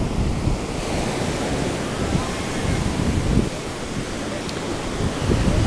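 Ocean surf rolls onto a beach in Goa, India, as a steady broadband wash of breaking waves with wind rumble across the microphone, continuous and fairly loud throughout with no clear voices.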